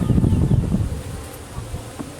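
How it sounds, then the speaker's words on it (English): Honeybees swarming around a beekeeper during a hive inspection, a steady low humming buzz close to the microphone, strongest at first and easing slightly, with faint bumps and rustles. "I've got a few bees bouncing off me now."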